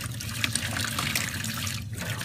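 Tap water runs steadily while a hedgehog is bathed in a sink, a continuous close splashing rush with a slight dip near the end.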